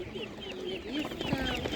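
Chickens and young half-grown chicks, including Spanish-breed birds, cluck and peep in short bursts at an outdoor poultry market, with a few clearer calls standing out over steady crowd murmur.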